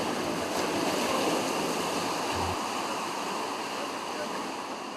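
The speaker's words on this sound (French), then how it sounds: "subit les assauts répétés des vagues de l'océan" Ocean waves break against the shore at Gandiol on the Senegalese coast, a constant, rushing roar of surf with no clear gaps between waves.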